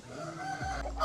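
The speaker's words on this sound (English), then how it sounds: "They also have this lovely chicken." A chicken at a castle and Norman village gives a brief low cluck, with a sharper call rising at the end, over a steady outdoor hum.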